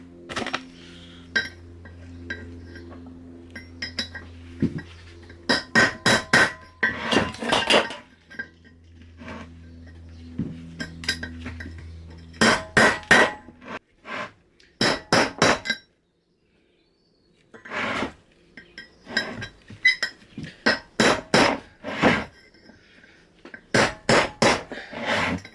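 Metal striking metal as a collapsed bearing is hammered out of a BMW G650GS Sertao motorcycle, loud sharp clanking blows in quick bursts separated by short pauses, alone without talk.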